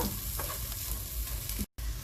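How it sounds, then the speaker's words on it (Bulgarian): Chopped onion sizzling in olive oil in a pot, steady loud frying with occasional stirring scrapes, close and continuous with a brief dropout near the end. "В тенджерка си сипвам малко зехтин, след това си слагам лук,"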